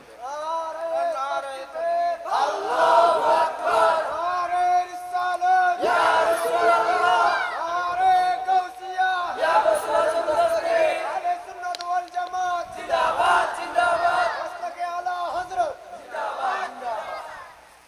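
A large crowd at an outdoor religious sermon shouts a slogan in unison, in repeated rhythmic bursts of massed voices that rise and break off over about eighteen seconds.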